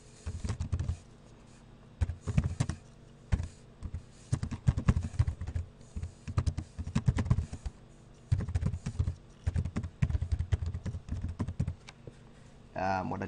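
Clusters of quick clicking keystrokes on a computer keyboard come in uneven bursts with short pauses between, close and fairly quiet.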